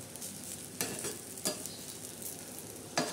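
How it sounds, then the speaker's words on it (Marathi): Spicy poha gets stirred in a pan, giving a faint frying hiss under a few distinct scraping strokes of the spoon spaced about a second apart, quiet and close, with no voices. "तर आता आपण मस्तपैकी असे पोहे हलवून घेणार आहोत."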